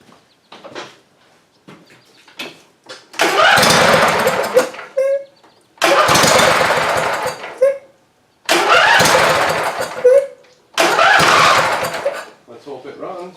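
A Toro Titan zero turn mower that had a blown engine cranks and roars in four loud, long bursts separated by short pauses, with faint clicks and rustling between them.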